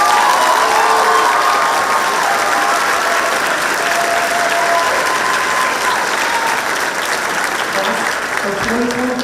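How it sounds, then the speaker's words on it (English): A large audience at a high school graduation ceremony applauds loudly and steadily for several seconds, a dense wash of clapping with some crowd noise and a voice faintly underneath. "let's give our parents, guardians, and champions a round of applause right now."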